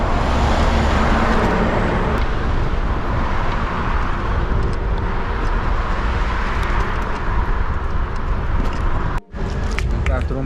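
Road traffic roars past a cyclist on a highway as a continuous loud rush of tyres and engines, with a brief dropout near the end.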